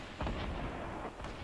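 Grenade launcher fire during a Fortnite match: a few deep, booming thuds with a heavy low rumble, one strong blast near the start and another near the end, set against a dense wash of game noise.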